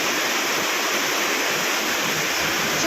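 Heavy unseasonal rain pours down in a village street, a loud, dense and unbroken rushing hiss like running water that fills the whole moment without voices.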